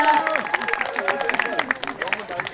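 Audience applause at a May 18 memorial ceremony, a short, moderately loud patter of clapping mixed with crowd babble, with voices audible across it.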